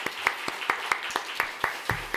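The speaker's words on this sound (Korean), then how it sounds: "우리 감사의 박수 한번 드리겠습니다" A congregation stands and applauds their pastor after a two-day dawn prayer service in a church, with a short, brisk run of scattered hand claps that ends after a couple of seconds.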